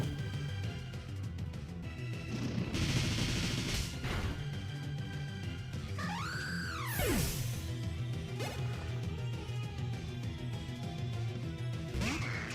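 Bullet Punch attack in a Pokémon video game battle, a quick whooshing hit and crash with a sweeping tone, loud over continuous game music.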